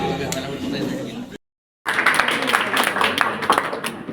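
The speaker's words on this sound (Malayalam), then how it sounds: "നല്ല കൈയടി കൊടുക്കൂ" Audience clapping at an award ceremony: a murmur of crowd noise, a brief silent break, then dense, sustained applause that fills the hall until the end.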